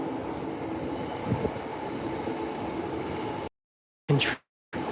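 A Shinkansen bullet train passes at Tokyo Station, heard from a distance as a continuous low rolling rumble with faint rail noise, cut off near the end by a short gap and a brief sharp rustle.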